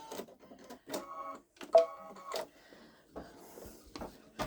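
A Babylock Solaris Vision embroidery machine stitches out a Santa and snowman design in the hoop, irregular bursts of mechanical whirring and clacking that start and stop, fairly close and with no talking.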